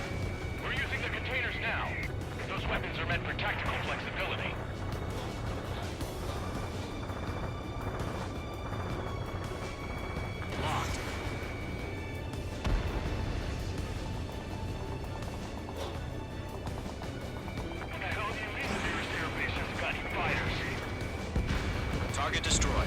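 Anti-air gunfire and attacks in the combat flight game Ace Combat 7: bursts of rumbling flak and distant impacts roll under engine drone, with radio chatter and voices talking across much of the stretch.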